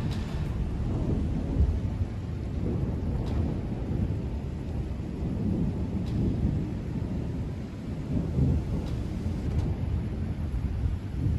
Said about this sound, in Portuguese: Essa é uma cortina de tempestade impressionante chegando no México.